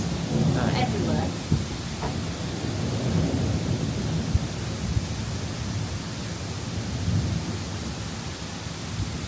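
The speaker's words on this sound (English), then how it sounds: "there seems to be a rather violent thunderstorm happening" A violent thunderstorm at sea rumbles with a broad, continuous roar and deep thunder, a few sharper cracks poking through, loud and enveloping throughout with no voices.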